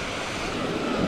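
A flowing stream in Chae Son National Park, Lampang, gives a brief, steady rushing wash of water, moderately loud and unbroken.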